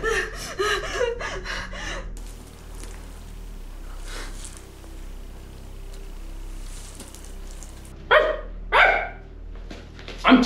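A small puppy barks in a quick run of sharp yaps, then falls quiet for several seconds before a few more barks come close and loud near the end.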